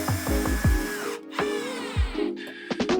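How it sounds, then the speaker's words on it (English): A power drill drives 20mm screws into wood, several short whirring bursts rising and falling in pitch, close and loud with brief pauses between. "We'll screw these in with some 20mm screws."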